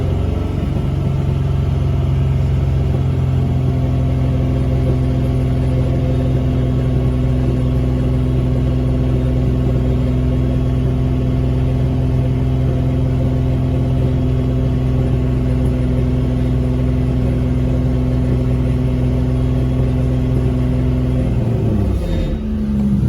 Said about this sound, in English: rev it at 2500 RPM for 10